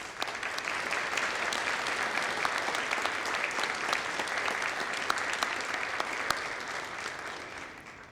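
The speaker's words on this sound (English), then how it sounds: "I'd like to give them a round of applause." Steady round of applause fills the hall at a county fire rescue graduation ceremony, a faint but continuous patter of many hands heard from a distance for around eight seconds.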